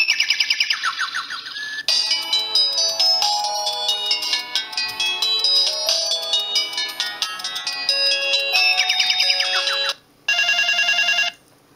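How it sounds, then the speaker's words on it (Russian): Built-in polyphonic ringtone played through the loud speaker of a Samsung D100 mobile phone, bright layered synth melodies with chiming tones, switching between several tunes with short gaps, close and clear with no talking. "Давайте послушаем встроенные рингтоны."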